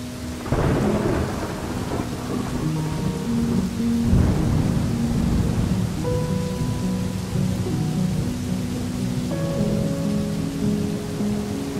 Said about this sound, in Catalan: Plou.